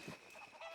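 Chickens cluck faintly in Red Dead Redemption 2, a brief, quiet burst of fowl calls over a low ambient bed.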